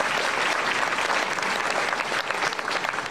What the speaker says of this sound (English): please give these people a hand of applause